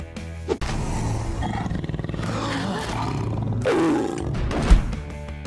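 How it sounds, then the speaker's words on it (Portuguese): A big cat roars loudly and continuously, deep and growling, with rising bursts toward the end; the animal is a leopard, and no one speaks over it. "Letra D, leopardo."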